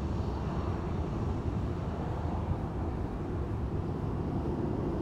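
Airplane at Fort Lauderdale airport (FLL), a loud, broad, steady engine roar close by, with no talk.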